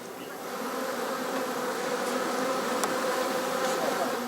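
Honeybees swarm around nomadic beekeepers' hives in Tibet, a dense, steady buzzing hum that fills the air continuously, with many insects close by and no voices.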